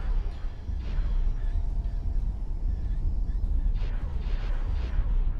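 Broadband rumbling barrage from the guns of a Star Wars Victory II star destroyer in the X4 space game, steady and continuous with a few brighter bursts, heavy low-end roar throughout.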